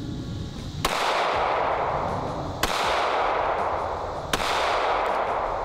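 Three separate loud pistol shots firing 9mm +P ammunition, evenly spaced about two seconds apart, each a sharp crack followed by a long echoing outdoor tail.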